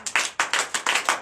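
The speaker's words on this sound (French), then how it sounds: "Que je vous demande d'applaudir très fort." Loud, close clapping from an audience at a night deliverance worship service in Comè, Benin, heard as uneven bursts of hand claps with no voices.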